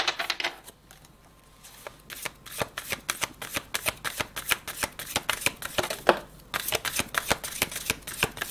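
Playing cards for a board game are dealt or shuffled close by in quick crisp flicks and snaps. The rapid riffling carries on for several seconds after a brief pause near the start.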